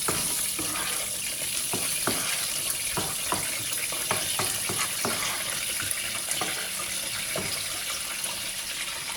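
Food sizzling and frying in a pan while being stirred, a steady bright hiss with scattered scraping clicks of the utensil, close and continuous.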